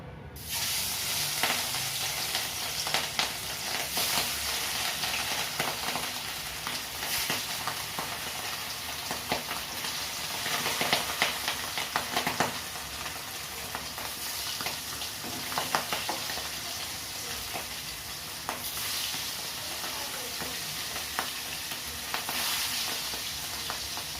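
Hilsa fish frying lightly in hot oil in a pan, for a traditional mustard hilsa dish; a steady, close, broadband sizzle with crackling spits and occasional stirring scrapes runs continuously without any talking.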